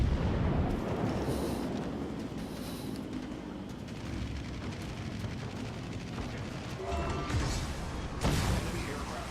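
Heavy rumbling blasts from dive-bomber bombs exploding in a naval combat video game, a dense continuous roar of booms and gunfire with louder bursts near the start and again toward the end.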